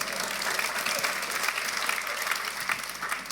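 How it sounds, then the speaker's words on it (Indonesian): A church congregation at an Indonesian-language sermon claps together in steady, loud applause, a dense crowd of hands that fills the hall evenly for a few seconds. "Tepuk tangan, saudara"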